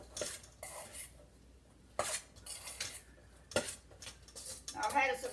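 Cauliflower pizza crust ingredients being stirred together in a bowl, with a spoon clinking and scraping against the dish in irregular bursts, close up and fairly quiet, no talking.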